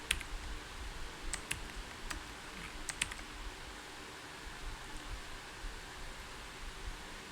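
Someone types code on a computer keyboard, producing irregular bursts of quick, close clicks over a soft background hiss, with no voices.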